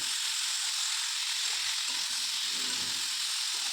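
Cauliflower and potato frying in oil with a little salt, a continuous bright hiss and sizzle, close and even throughout, with faint low stirring movements underneath.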